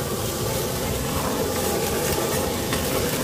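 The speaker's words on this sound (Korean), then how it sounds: "이렇게 토치로 지져주면서 볶아주시면 돼요" Teriyaki chicken neck meat stir-fried in a pan while seared with a kitchen torch, giving a loud, dense roar of hissing flame and sizzling that stays steady throughout.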